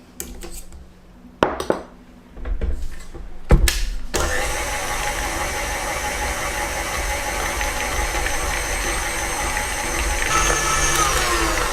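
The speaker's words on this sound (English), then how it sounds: "add the melted chocolate bit by bit and start whisking again" A few metal clinks and bowl knocks come first. Then an electric mixer runs continuously, whisking melted chocolate into the batter for a chocolate and almond cake, with a steady motor whir that grows slightly louder near the end.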